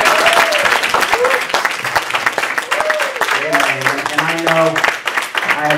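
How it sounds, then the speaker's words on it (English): Church congregation clapping hands in praise, a dense wash of claps running throughout with voices and singing tones mixed in. "Let's give the Lord a hand clap of praise"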